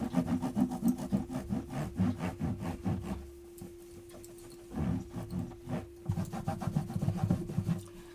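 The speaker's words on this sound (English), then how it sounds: "And then with a microfiber cloth, I take it straight off." A microfiber cloth wipes polish off a guitar body in a steady series of close, soft rubbing strokes, with a brief pause midway before the wiping resumes, under a constant low hum.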